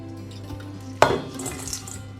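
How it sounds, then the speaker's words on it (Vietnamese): Raw shrimp being tipped into a basin to marinate, a single sharp clatter and wet slap as they land, followed by a few soft rustling settles against a faint background hum. "Giờ mình cho tôm vào mình ướp nha."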